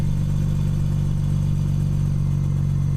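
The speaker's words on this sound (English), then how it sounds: "Super spin exhaust, that's a lot lower and deeper." A BMW E46 M3 with its S54 engine and an aftermarket exhaust idles close by, giving a constant, deep, slightly throbbing drone with no voices over it.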